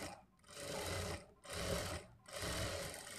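A sewing machine running a second line of stitching over the first on a blouse lining, three loud close bursts of rapid whirring separated by brief pauses.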